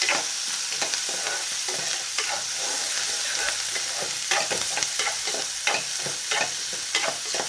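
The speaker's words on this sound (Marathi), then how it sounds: "शेंगदाणे पण त्यात टाकायचं आणि या सगळ्या गोष्टी फ्राय करायच्या एकत्र" Peanuts and other ingredients fry together in a pan for a children's Maggi dish, giving a steady, close sizzle with repeated scraping stir strokes throughout and no talking.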